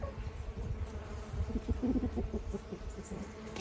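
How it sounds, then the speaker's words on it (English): Bees hum faintly outdoors in a garden among azalea plantings and blossom trees, a soft continuous buzzing with no voices. "And the bees are having a great time."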